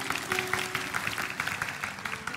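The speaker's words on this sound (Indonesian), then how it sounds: "Berikan tepuk tangan untuk Tuhan." Church congregation clapping during a sermon by Phillip Mantofa, a steady patter of many hands at moderate level with faint voices mixed in.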